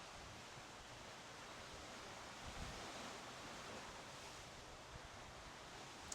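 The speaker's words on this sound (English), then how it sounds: "hear the sounds of the waves moving in and out." Steady broadband wash of ocean surf, waves rolling in and receding continuously at moderate distance, with no voices.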